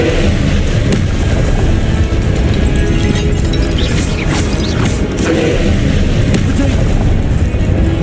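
A Confringo spell blasts in Hogwarts Legacy, loud booming explosions and crashes layered in a continuous dense combat roar, with a voice speaking over it.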